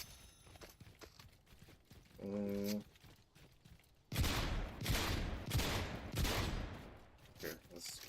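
Shotgun blasts in a retro arcade-style video game, a burst of loud, rapid booming shots that rattle on for several seconds after a short electronic tone, with a player talking over the action.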